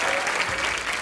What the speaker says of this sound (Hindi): अर्जुन रामपाल और विद्या बालन के लिए जोरदार तालियां।